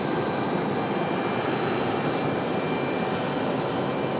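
An Air France jet airliner with quiet high-bypass engines arrives at Raleigh Durham airport, a steady broad roar of engine and rushing air holding even and strong the whole time, with no talking.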